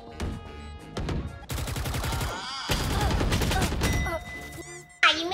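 Rapid gunfire crackles in a shooting video game: sharp bursts of automatic fire and single shots follow one another closely, loud and near, with mechanical clicks and a final abrupt blast at the end.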